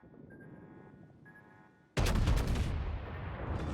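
Texas battleship secondary guns opening fire in World of Warships: a sudden loud burst of several rapid overlapping gunshot blasts after a quieter stretch of ambient hum, the shots continuing to ring out near and heavy.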